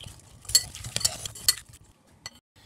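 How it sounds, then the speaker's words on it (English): Vegetables are tossed and mixed into a marinade in a bowl. Several wet clinks and scrapes of a utensil come in a short burst, close and fairly quiet, then fade to near silence with one last tap. "And then mix that into the marinated sauce."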